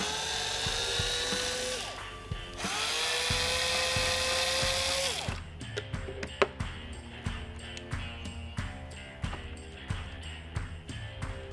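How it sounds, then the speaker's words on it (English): A power driver whines steadily for several seconds, backing Phillips screws out of a Stryker ST vertical motor, then short clicks and ratcheting bursts follow, close and fairly quiet with no talk. "the vertical motor, which is being held in by the 3 Phillips screws. You will take those screws out."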